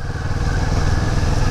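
Kawasaki Vulcan S 650 motorcycle engine running steadily while riding on a town street, a loud, continuous mid-pitched drone with a rough clattering texture and no pauses.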